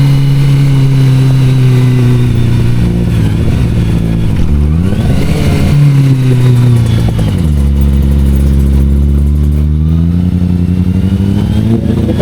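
A Kawasaki ZX25RR motorcycle engine revs loudly and close as it climbs a hill in first gear, with a high, rising and falling wail, a brief dip, then a sustained strong drone.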